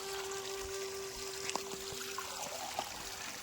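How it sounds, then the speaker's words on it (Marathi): Spring water welling up from the ground at a forest ashram site, a soft steady trickle with faint bubbling and a few small drips, close by over a constant background hum. "या ठिकाणी आपोआप जमिनीतून पाणी वरती येते"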